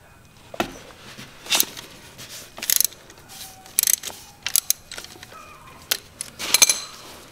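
Adjustable oil filter wrench clicking and ratcheting against the oil filter on a Honda Africa Twin ATAS motorcycle during an oil change, heard as scattered close metallic clacks and brief rattles with quiet gaps between them, no voices.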